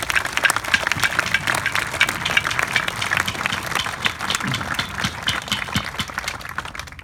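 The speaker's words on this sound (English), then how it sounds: "give yourselves a clap because we're clapping you today" Crowd applause at an outdoor Australia Day smoking ceremony, a steady spread of many hands clapping at moderate loudness for the full stretch without pause.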